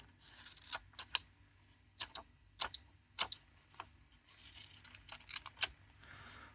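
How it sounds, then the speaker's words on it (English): Otacle P1S multitool scissors snip through post-it note paper in a series of crisp, close clicks, about a dozen sharp cuts at an uneven pace with no talking. "cleanly cuts the paper, no real issues"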